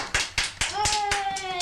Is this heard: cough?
no